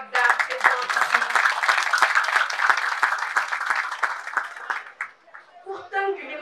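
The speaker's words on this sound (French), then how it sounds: "je vous demande un maximum d'applaudissements pour toutes les braves dames présentes ici" An audience at a community event in Diamaguène, Sicap Mbao, bursts into sustained, dense applause for the women present, loud and even for several seconds before fading as a voice begins speaking.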